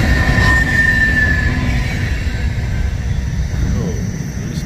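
An eastbound freight grain train rolls past on the Emporia Subdivision at Gardner, Kansas, a loud, close, steady rumble of wheels and cars with a brief high squeal early on.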